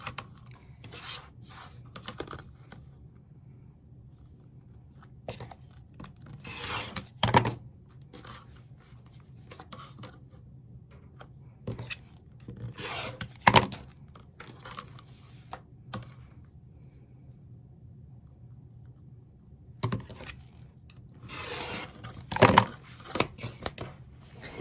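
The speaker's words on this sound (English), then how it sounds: "just take your rotary cutter and your ruler and trim it off, just the excess" A rotary cutter and ruler trimming excess fabric from a scrappy fabric postcard, heard as soft scraping and rubbing strokes, with a few sharper louder passes around the middle and near the end, close by and no talking.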